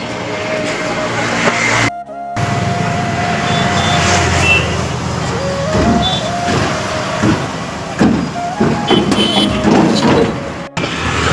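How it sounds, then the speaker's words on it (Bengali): A bus engine runs steadily with a low continuous rumble and traffic noise around it, briefly cutting out near the two-second mark, with a faint reversing-style beep tone audible at times. "বাসটা চলছে।"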